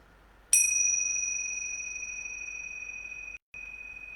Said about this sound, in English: Ringing the bells for the Beltane fires.